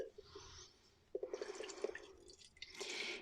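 Micellar water is poured into a plastic foaming container, with faint clicks and handling followed by soft trickling and gurgling pours close by in a quiet room.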